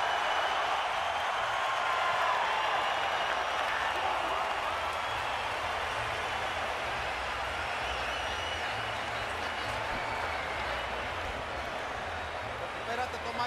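Boxing arena crowd at the Canelo Álvarez vs Gennady Golovkin fight reacting with a broad, sustained roar and cheering after a combative round, steady and full throughout, with a commentator's voice mixed in.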